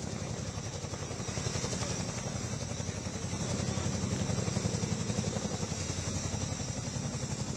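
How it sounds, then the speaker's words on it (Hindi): Steady low mechanical roar with a fast rhythmic thumping from a Chinook helicopter's rotor blades, continuous and fairly loud throughout, arriving at AIIMS Rishikesh. "जो चिनूक हेलीकॉप्टर है वो ऋषिकेश एम्स पहुंचा"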